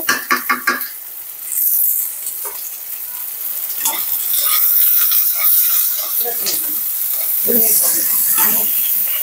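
Radhuni spice sizzles and hisses as it fries in a pan beside mashed potato, with stirring scrapes and a few clattering utensil taps. A voice is briefly heard over the steady frying.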